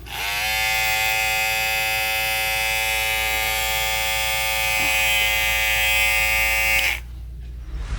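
An Andis GTX-EXO electric hair clipper with M-Force buzzes loudly and continuously for about seven seconds, then cuts off abruptly, leaving a low hum.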